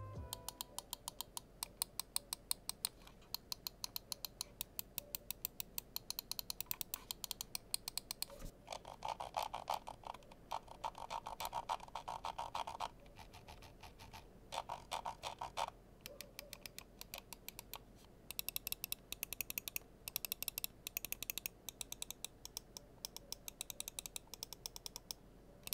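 Switches of a VXE R1 SE mouse clicked over and over in fast, even bursts, each click crisp and close, with a few short pauses between runs.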